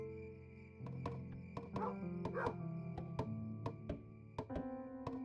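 A dog barks repeatedly in the video game Kingdom: New Lands, sharp short barks at an uneven pace over sustained tonal game music, with no one talking.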